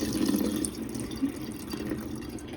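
Liquid pours from a can of hominy into a pot while making pozole, a short steady trickle and splash that lasts a couple of seconds, close by and moderately quiet, with no talking.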